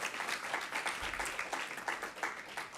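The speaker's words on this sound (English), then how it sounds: "If we want to give them a round of applause." An audience at a SummerWorks professional development panel on civic engagement gives the panelists a round of applause, a moderate, fairly distant patter of many hands clapping steadily with no voices over it.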